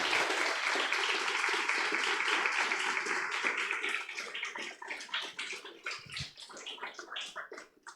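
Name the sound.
applause for the Lord at a church sermon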